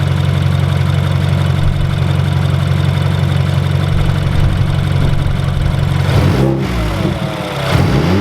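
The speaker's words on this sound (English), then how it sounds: "It's been idling for about 10 minutes." A BMW F30 with an N26 engine and Injen aftermarket intake idles steadily up close, a low constant rumble with a slight dip in pitch near the end.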